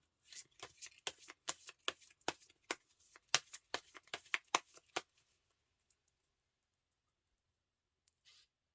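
Tarot cards shuffled by hand give a run of crisp, close riffling clicks and snaps for about five seconds, then stop, leaving near silence broken by a couple of faint taps.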